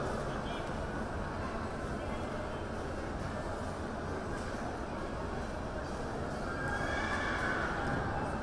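A large show-jumping horse presented at an auction sale neighs over a steady background of crowd murmur and arena noise, moderately loud, with a voice commenting.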